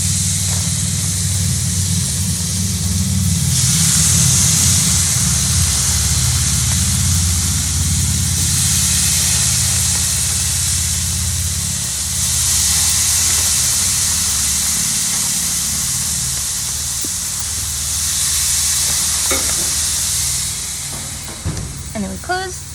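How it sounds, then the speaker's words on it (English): Steaks sizzling on a grill, a loud steady hiss lasting over twenty seconds that swells and eases in waves, with low rumbling beneath and a few clatters near the end. "we're going to open up the grill, and we're just going to lay them on there"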